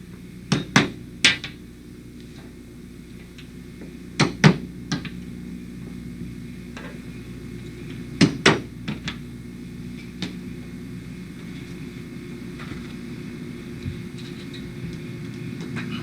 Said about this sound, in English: And again, center punch the holes.